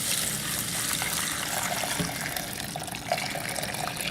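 Fairly hot water pours steadily into an ultrasonic cleaner, a continuous close gushing splash with no pauses.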